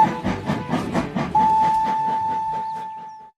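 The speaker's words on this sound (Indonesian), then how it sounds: "lihat di sini ada kereta api Thomas." A Thomas and Friends toy train chugs in a rapid rhythmic clatter, then a steady steam-whistle-like tone sounds for about two seconds and fades as the chugging continues, close and alone.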